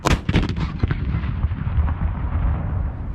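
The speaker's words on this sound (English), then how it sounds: "Gun number 1, fire." A single artillery gun fires one loud, close blast that fades into a long rolling rumble.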